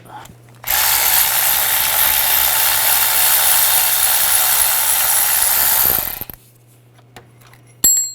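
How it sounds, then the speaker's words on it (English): A ratchet with a 16mm socket removing a bolt during alternator replacement on a 2006-2010 BMW 550i, a loud, steady mechanical whirring run of about five seconds, then quiet with a brief click near the end. "Take that bolt out."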